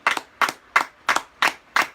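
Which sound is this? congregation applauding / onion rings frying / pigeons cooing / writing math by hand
congregation applauding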